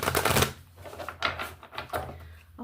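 Tarot cards being shuffled by hand, a run of papery riffling and tapping bursts with a louder flurry at the start, close and fairly loud with no talk over it.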